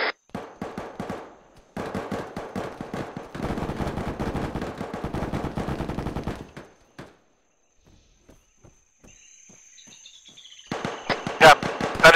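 Gunshots fired during a jungle milsim airsoft operation outdoors, rapid bursts of sharp cracking shots in several clusters, a quiet gap with faint insects and birds, then more shots near the end.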